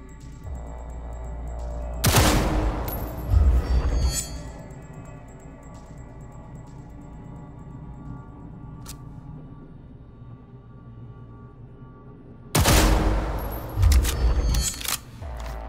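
Two separate bursts of sharp video game gunshots at a Cyberpunk 2077 shooting range, a few rapid cracks each, roughly ten seconds apart, with a low steady hum in between.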